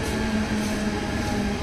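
Mumbai local train at Lokmanya Tilak Terminus station, a steady broadband rumble with a faint tonal whine, constant and fairly close, without voices.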